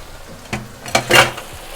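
Cream is stirred into a sizzling creamy white chicken karahi, with a soft fry hiss under a few scraping spoon clinks against the pan, close and fairly loud.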